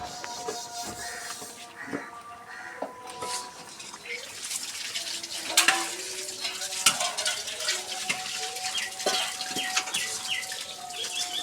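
Eggplant and beef stirred and frying in a pan, a steady sizzle broken by repeated scraping strokes of the spatula, close and fairly loud throughout, with faint clatter now and then.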